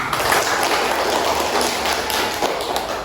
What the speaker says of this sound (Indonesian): Beri tepuk tangan untuk Dean dan Paras.